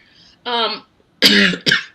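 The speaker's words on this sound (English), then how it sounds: "Sorry, I cannot stop coughing." Two short bursts of coughing, near and fairly loud, after a brief voiced sound; harsh, throaty and abrupt.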